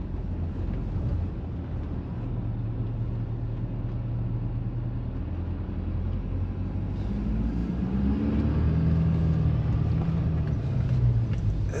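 A farm combine drives along a back road toward a field, giving a steady low engine drone and rumble heard from inside, with wind noise and a rising tone near the end, and no talking.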